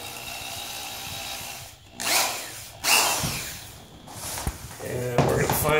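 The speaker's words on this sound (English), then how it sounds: "Go ahead and attach a 3/32 bit to our drill." A power drill with a 3/32 bit whirs in several short bursts into a soft spot in a laminate floor, pausing between each, with a few knocks and handling noises nearby.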